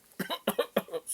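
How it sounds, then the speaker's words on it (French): Three sharp coughs in close succession from someone speaking French, each a quick double burst, close and fairly quiet. "Excusez-moi, je tousse."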